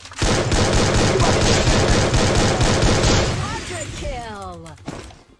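Rapid automatic gunfire rattles loud and continuous in the Free Fire video game, a dense burst of shots that tails off into quieter sounds near the end while a voice talks.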